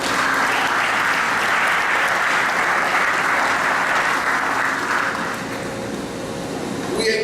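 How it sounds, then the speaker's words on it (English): A crowd at a dishwasher facility expansion event in New Bern, North Carolina, applauds steadily and loudly for about seven seconds, the dense clapping easing slightly near the end. "Let us give them a round of applause"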